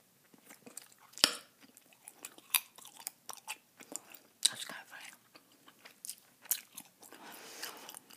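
Bazooka bubble gum chewed right up close to the mic, with soft wet smacks, snaps and crunchy bites in an irregular rhythm. Faint breathy sounds and a whispery voice sit around it.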